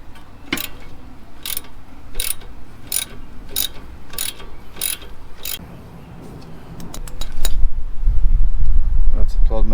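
A ratchet wrench loosening a 12mm brake hose bolt on an Acura MDX, heard as a run of evenly spaced metallic clicks over a steady mechanical background that swells louder toward the end, close by in a garage setting.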